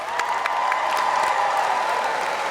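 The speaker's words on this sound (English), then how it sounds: "I want to ask you all to give yourselves a round of applause for being here tonight" Rally crowd at a Bernie Sanders event in Charleston, South Carolina, applauding with scattered cheers, a steady wash of clapping heard alone.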